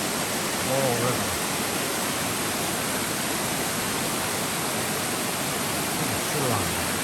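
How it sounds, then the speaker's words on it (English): The Laurel River flows in a steady, broadband rushing wash, close and constant, with faint voices briefly rising through it. "I think it's the Laurel River."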